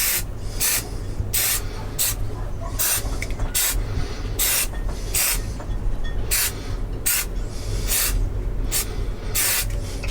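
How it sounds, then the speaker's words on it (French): Short bursts of protective plastic spray from an aerosol can hiss over electrical parts in a flood-damaged installation, about a dozen evenly spaced puffs over a steady low background hum, close and fairly loud. "je vais donner un coup de spray plastique sur tout ça, pour pas qu'il y ait d'oxydation qui puisse revenir"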